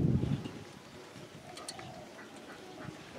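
A spotted dove gives a short, low coo right at the start, close and fairly strong, then only faint background sound follows.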